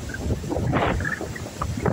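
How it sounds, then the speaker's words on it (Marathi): A strong sea wind buffets the microphone at an Alibag beach, a steady rushing roar with gusty swells throughout and no voices. "मस्त वारा सुटलाय."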